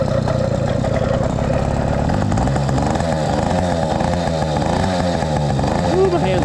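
A 100cc motorized bicycle engine, freshly mounted on the bike, runs outdoors on a cold day, a loud continuous buzzing putter that holds steady, then revs with rising and falling pitch near the end.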